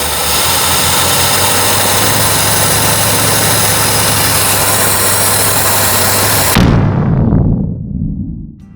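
An old Ford F100 truck engine runs on choke, idling steadily and close for over six seconds, then sputters and drops into a rough, rumbling shutdown that fades out.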